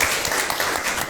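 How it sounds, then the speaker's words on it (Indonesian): Students at a psychology sharing session at MAN 1 Banyumas, an Indonesian Islamic high school, applaud together. The clapping is a steady, dense wash of many hands at fairly loud level, with no pauses in it. "Tepuk tangan semuanya dulu."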